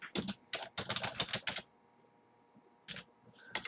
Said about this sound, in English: as you type something in